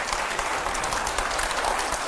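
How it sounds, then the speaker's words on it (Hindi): A crowd applauds loudly and continuously, dense clapping filling the whole moment without talk. "जोरदार तालियां"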